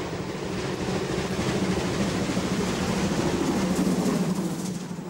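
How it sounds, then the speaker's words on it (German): The Rasender Roland narrow-gauge train rumbles steadily through the Rügen countryside at about 30 km/h, its wheels and carriages making a continuous, close rolling clatter with no voices. "mit denen die Kleinbahn durch die Landschaft zuckelt"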